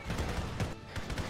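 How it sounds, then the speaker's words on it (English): Tracer fire rattles in a dense, continuous fusillade of rapid shots in the military shooter Arma 3, heard at moderate distance and fairly quiet, with no talking. "That is a lot of tracer fire."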